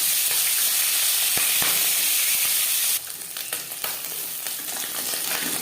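Small pakal fish fry in hot refined oil, giving a loud, steady sizzle that drops sharply in level partway through and then continues with crackling, spattering bursts.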